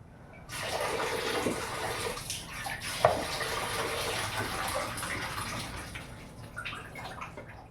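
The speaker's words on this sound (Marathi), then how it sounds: "थोडंसं घट्ट वाटतंय, थोडंसं पाणी अजून घालू." Water poured steadily into a Malvani fish curry (saar), a continuous close splashing pour lasting about seven seconds that tapers slightly toward the end, with no talking.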